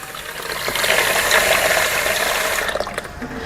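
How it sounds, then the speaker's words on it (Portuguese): Water is poured onto soap in a container for a homemade cleaning gel, a loud steady splashing rush that tapers off near the end. "vou colocar aqui o nosso sabão, água e somente água"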